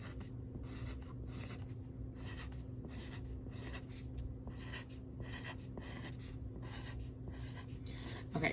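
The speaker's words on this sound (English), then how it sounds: "I'm gonna first start off by drawing a dozen cookies, and I'm gonna represent them by circles" A pen scratches across paper in a quiet room, drawing a series of circles, with short rhythmic strokes repeating about a dozen times and brief pauses between them.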